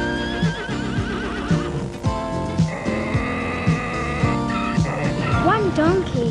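Horses neigh and whinny in a farm-animal counting segment, several rising and falling calls overlapping one another. A steady background of other animal noise and music-like tones runs beneath them, loud and fairly close.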